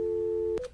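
A steady electronic phone tone plays alone, loud and unbroken, for a call placed to a disconnected number, then cuts off abruptly with a short click and a brief higher tone.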